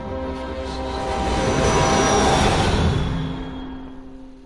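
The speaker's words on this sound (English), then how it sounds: "Oh, so Walter got hit by a train" Train rushing past in the video game What Remains of Edith Finch, a broad rumbling roar that swells to a peak mid-way and then recedes, heard alone.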